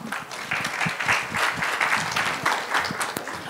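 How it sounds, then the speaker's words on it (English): Sustained audience applause at a conference session on peace, diversity and inclusion, a steady dense patter of many hands clapping with no talk over it. "applause for Dr. Mohsen Naqvi"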